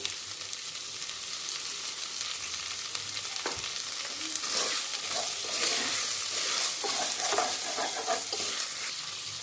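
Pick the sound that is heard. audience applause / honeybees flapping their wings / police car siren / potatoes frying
potatoes frying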